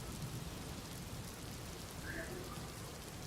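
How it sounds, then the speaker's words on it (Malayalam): Steady rain falls over Bangalore in the evening, a dense, even hiss of drops hitting surfaces all around, with no breaks in the downpour. "ബാംഗ്ലൂരിൽ അങ്ങനെ ആദ്യമായിട്ട് മഴ പെയ്തിരിക്കുന്ന"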